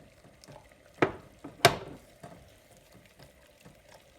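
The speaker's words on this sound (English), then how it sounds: "you want to keep stirring to make sure it doesn't scald on the bottom" A spoon scrapes and clinks through a thickening protein powder and cocoa mixture in a pot, giving two sharp strokes near the start and then softer, irregular stirring scrapes, close and with no voice.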